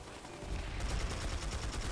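Distant gunfire in the Planetside 2 shooter game, a dense, muffled crackle of overlapping shots rolling continuously without clear individual reports.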